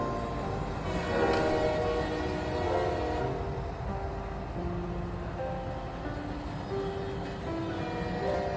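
A moving train rolls steadily with a low continuous rumble, and long horn-like tones swell around the first and third seconds, moderately quiet and without talk.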